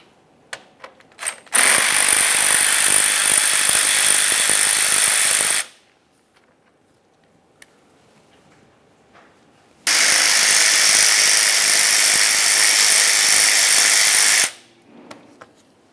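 Two long bursts of a ratchet wrench zipping loud and close while 10mm nuts are backed off the lower cooling fan of a 2010-2013 Ford Transit Connect, with a quiet pause between them.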